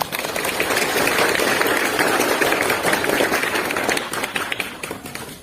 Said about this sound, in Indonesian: Tepuk tangan dulu untuk kawan-kawannya.